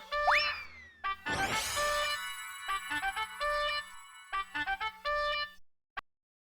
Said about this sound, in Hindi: आप तो यहाँ सामने हो, मतलब ये फोन बावरी जी का ही है।